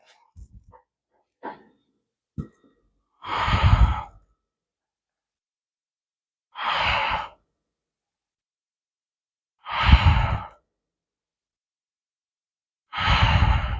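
Slow, deliberate breaths during a seated chair yoga stretch, four long airy exhales and inhales spaced a few seconds apart, close and clear, with brief soft rustles at the start.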